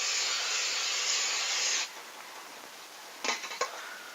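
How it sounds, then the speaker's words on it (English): A pot of water coming to the boil on a stove, with a broad steady hiss of steam that drops away, then a short burst of spraying or sizzling near the end. "my water's almost boiling, producing steam"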